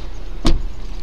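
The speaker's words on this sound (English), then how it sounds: "Will you let the window down a little bit for him?" A car's electric power window lowering inside a stopped vehicle on a hot day, heard as a single short motor whir over a steady low engine or cabin hum, close by with no talk.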